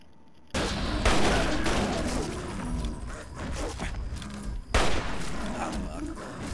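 Gunfire in the video game Fallout 3, a dense, loud burst of shots and impacts that runs nearly continuously, with a brief break and a renewed volley, while excited voices talk over the action.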